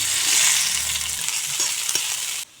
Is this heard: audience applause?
no